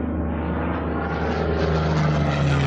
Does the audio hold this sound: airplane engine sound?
yes